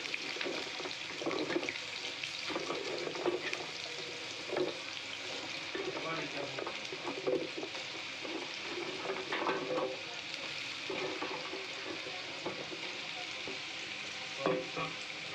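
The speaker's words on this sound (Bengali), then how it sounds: "প্রথমে আলুটা ফ্রাই করে নিই" Potatoes for a catla fish head aloo dum fry in hot oil, a steady dense sizzle with scattered crackles and the occasional clink of stirring, heard close and alone without talk.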